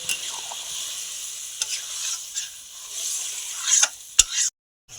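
A chicken curry with taro and malabar spinach sizzles in the pot after warm water is poured in, with a steady bubbling hiss, a few sharp stirring scrapes near the end, then sudden silence.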